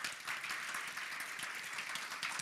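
Conference audience clapping together, a dense, steady wash of applause from a large crowd, heard fairly faint and at a distance and holding evenly for a couple of seconds.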